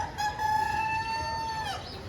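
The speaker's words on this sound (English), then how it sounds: "It's usually pretty quiet except for the roosters early in the morning." A rooster crows once early in the morning in Nepal, a single long drawn-out call with a falling end, heard clearly at moderate distance over faint background noise.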